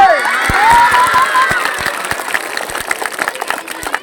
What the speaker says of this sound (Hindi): जोर ताली मारिए